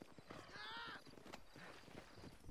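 Horse hooves clip-clop in Red Dead Redemption on Xbox 360, a faint run of quick, even hoof strikes with a brief snort or whinny early on, all heard quietly in the background.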